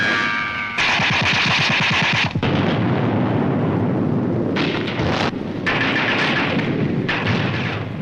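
Heavy battle noise from a World War II beach landing on a Pacific island, with Marines storming ashore beside amphibious tracked landing vehicles and 3-inch guns firing on dugouts and pillboxes; dense, continuous blasts and rumbling roar, loud and sustained throughout.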